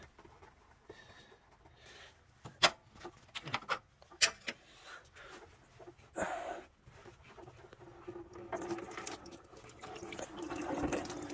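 Water spilling and trickling out of a Toyota KE36 with a 3TC engine, irregular splashes and drips building into a steadier pour toward the end, fairly faint and close.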